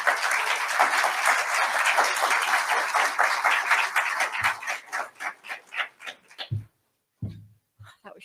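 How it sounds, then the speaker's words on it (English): Conference audience bursting into loud, dense applause that fills the room, then thinning into scattered individual claps and quiet pauses near the end. "please give a huge round of applause to Debbie Rogers from Sean's Place"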